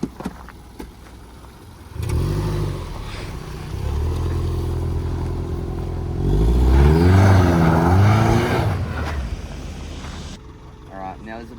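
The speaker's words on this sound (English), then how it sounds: "I believe this car should be able to crawl up that hill like nothing" A car engine drones and revs while the car climbs a hill, the pitch rising and wavering as it works harder, with a voice talking over part of it.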